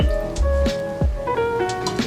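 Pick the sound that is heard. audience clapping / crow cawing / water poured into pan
water poured into pan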